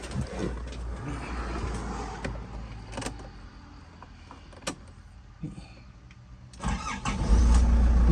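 A Nissan Urvan van's engine turns over and settles into a steady idle inside the cabin, with a few clicks and thumps and a louder rev toward the end.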